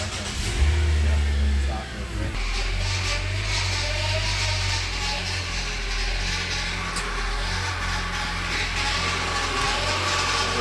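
A Nissan CVT transmission runs on a lift with fluid circulating after a replacement valve body install. It gives a steady, moderately loud mechanical drone and engine hum with a low rumble throughout, and no speech is heard.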